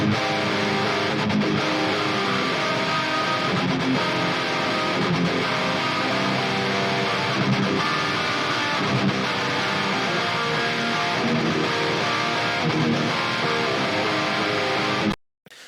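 Electric guitar with the gain dialed down through the Archetype Nolly amp plugin, a dense, steady full-band metal chorus riff that plays loud and unbroken throughout, then cuts off abruptly near the end.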